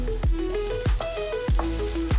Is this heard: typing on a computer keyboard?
no